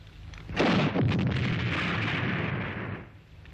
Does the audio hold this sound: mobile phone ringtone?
no